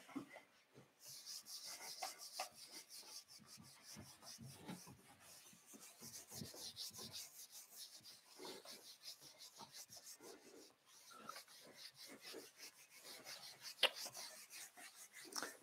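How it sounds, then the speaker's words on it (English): A pencil eraser rubs back and forth across paper in quick, soft scrubbing strokes, faint and close, repeating steadily for about fifteen seconds with no talking. "I'm just erasing so I can write."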